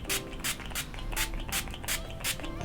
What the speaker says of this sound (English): So I'm gonna take this NYX Plump and Finish setting spray.